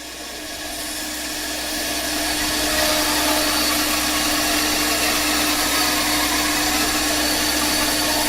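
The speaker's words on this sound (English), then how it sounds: "Now this bandsaw is on a fairly big extension cord, so I'm not going to go very fast here, because I can see I'm going to stall it." A bandsaw running on a fairly big extension cord makes a loud, steady mechanical whine and hum that swells during the first few seconds, then holds at full volume without break.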